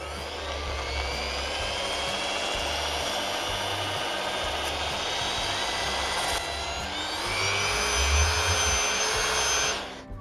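A close electric drill runs continuously with a high whine while sharpening a foam-carving knife, its pitch shifting slightly near the end before it stops abruptly.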